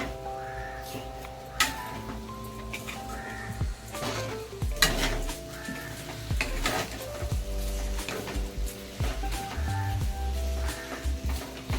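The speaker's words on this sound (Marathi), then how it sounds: "झाकण काढून आता आपण मिक्स करून घ्यायचं" Banana sheera being stirred and mixed in a pan after the lid comes off, with intermittent scraping and clanking of a spoon against metal over a soft tonal background.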